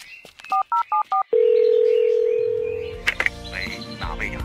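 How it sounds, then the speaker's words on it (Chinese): A phone number is keyed in, four short DTMF beeps in quick succession followed by a long steady tone, then a brief mix of sounds with a voice. "我给之前的同事打个电话"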